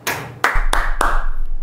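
About four sharp, separate hand claps sound close and loud through a Rode NT USB microphone, spaced roughly a third of a second apart, each ringing briefly before fading into a quiet room tone.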